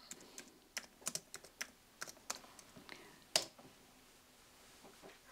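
Fingers tap a computer keyboard in a quiet room, a short irregular run of light, close keystrokes ending with one sharper press, then near silence.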